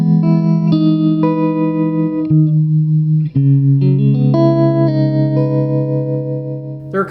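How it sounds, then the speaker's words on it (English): Electric guitar run through an Anasound Sliver tremolo pedal, sustained chords and single notes pulsing in volume at a steady rate, loud and alone with a few sharp note changes. "The sliver is a tremolo pedal, which basically turns your guitar up and down to the speed you set"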